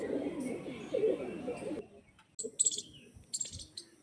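Original pigeons kept for sale give soft cooing calls, first under a dense murmur of other birds, then a few brief separate calls over near silence.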